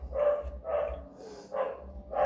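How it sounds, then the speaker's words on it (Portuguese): A dog barks five times in a fairly steady rhythm, each bark short and sharp, fairly close, with quiet gaps in between. "aí vai ter que ser o cachorro latindo aí"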